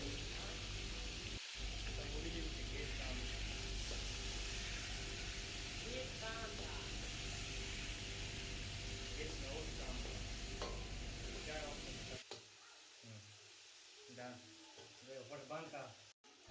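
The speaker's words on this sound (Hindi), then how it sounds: "गोश्त को हम अच्छी तरीके से फ्राई करेंगे" Meat sizzles steadily in a pan with intermittent stirring scrapes, loud at first, then dropping to a quieter, sparser frying sound near the end.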